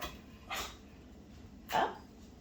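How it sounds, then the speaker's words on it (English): Two short, sharp dog barks about a second apart, fairly faint and a little distant, with quiet room noise in between. "Dog barking."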